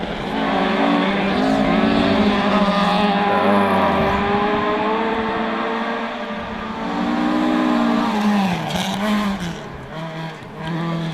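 A historic two-wheel-drive rally car races through a special stage of a gravel forest rally, its engine revving loudly and changing pitch as it approaches and swings through corners, with faint talk underneath.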